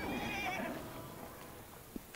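A horse in Assassin's Creed Syndicate gives a clear wavering whinny at the start, fading into quiet game ambience with faint hoof clip-clops afterward.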